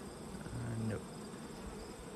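A faint, steady buzzing of many honey bees around an open hive, with one brief louder drone passing near the microphone, no talking.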